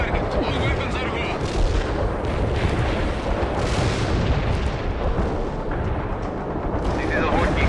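Dense, continuous rumble of explosions and battlefield booms from an anti-tank strike in the World in Conflict strategy game, loud and sustained throughout, with voices speaking underneath.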